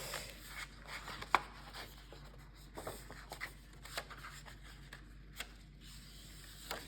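Stiff paper is folded and creased for a handmade mini album, giving close crinkling, rustling and scattered sharp crackles in irregular bursts at moderate loudness, with no talk.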